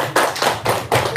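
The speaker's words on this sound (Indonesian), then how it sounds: "Tepuk tangan dulu dong." An audience at a talk on practices for flowing fortune claps in unison, giving about four distinct, evenly spaced bursts of hand claps heard close and fairly loud.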